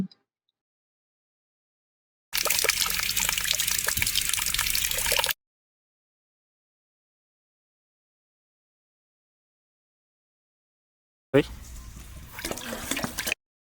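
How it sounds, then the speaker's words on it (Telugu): Running water splashes while basmati rice is washed, one steady burst of a few seconds followed after a long silence by a second, shorter rinse. "వన్ కేజీ బాస్మతి రైస్ని కడిగి పెట్టుకోవాలి."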